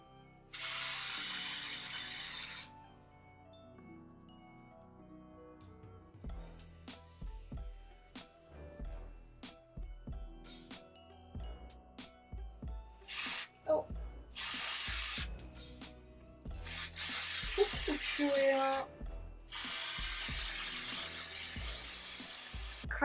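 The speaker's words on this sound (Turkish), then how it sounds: "Bu L'Oreal Colorista spreyleri gri olanı ama bunun simli olduğunu hatırlıyorum." Short bursts of grey L'Oreal Colorista hair colour spray hiss loudly from an aerosol can, with several long sprays separated by clicks, rattles and handling of makeup items in between.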